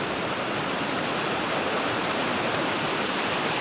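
Powerful river rapids in the Båtfors wilderness roar steadily and loudly up close, a dense unbroken rush of white water with no voices over it.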